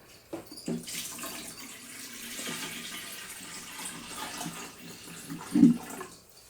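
Water is poured into a small 2.5-gallon glass vivarium for a leak test, a close trickling and splashing flow that swells and eases with a louder splash near the end, no talk.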